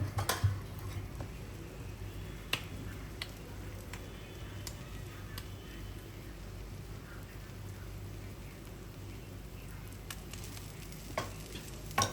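Paratha made with bathua and potato frying in refined oil on a griddle, giving a steady close sizzle with faint crackles and a few light clicks throughout, with no talking.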